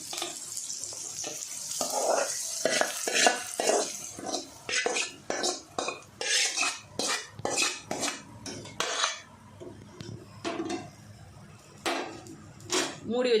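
Fried onions are stirred into cooked green gram in a pot: a spoon scrapes and clinks against the metal in a quick run of rhythmic strokes, close and fairly loud, with brief pauses between the bursts.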